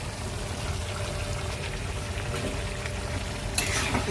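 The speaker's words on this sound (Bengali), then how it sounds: "মশলা কষে যাচ্ছে প্রায় আর এর ভেতরে আলু আর চিংড়ি মাছ দিয়ে দেবো" Potatoes and prawns frying in a spice masala with a continuous loud sizzle, a sharper burst of hiss near the end, no talking.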